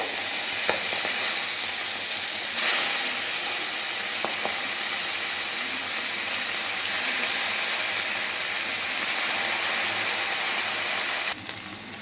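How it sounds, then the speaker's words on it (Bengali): Prawns fry in mustard oil in a wok, giving a loud, constant sizzle and crackle close by for about twelve seconds, with a few faint clicks and small surges in intensity and no voices. "এবার এই তেলের মধ্যে আমি চিংড়ি মাছগুলো দিয়ে ভালোভাবে ভেজে নেব।"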